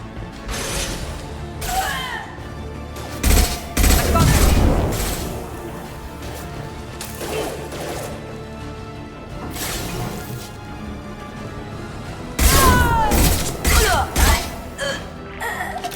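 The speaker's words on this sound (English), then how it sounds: "Firing an impact shot!" Impact shot gunfire in Mass Effect 2 Legendary Edition: heavy, booming discharges arrive in loud clusters around the middle and end, mixed with mechanical clanks, gasps and combat noise over a steady background hum.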